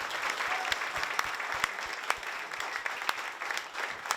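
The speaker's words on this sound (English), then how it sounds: "Can we please get a round of applause for Adrienne and Rich?" Audience at a Democracy Dialogs evening event by United Vision for Idaho applauds Adrienne and Rich, a moderate, steady patter of clapping with a few crisp individual claps ringing out above the crowd.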